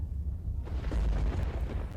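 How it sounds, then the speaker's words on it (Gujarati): An electric transformer on a pole in Sumrasar Sheikh near Bhuj shorts out during rain, giving a deep rumbling blast that swells after a brief quiet moment and roars on for over a second. "આ વરસાદી માહોલ વચ્ચે વીજ ડીપીમાં કડાકા ભડાકાના દ્રશ્યો છે"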